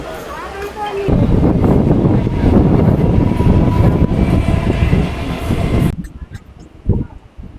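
A train rumbles loudly close by as it arrives at Loknath station on the Sheoraphuli–Tarakeswar line, a dense rattling roar that cuts off abruptly, leaving quieter ambience and a brief clunk near the end.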